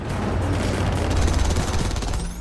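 Rapid bursts of gunfire in the video game Killzone Shadow Fall, a dense, loud continuous battle din with explosions and ship noise layered over it, no talk during the shots.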